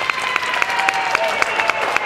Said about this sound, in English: let's just have people clapping and stuff. Not really to rhythm, just happy to be there.